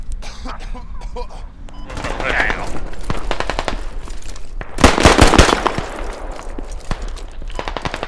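Rapid bursts of automatic gunfire rattle loudly, with a heavy volley in the middle and scattered shots around it, from the video game Squad.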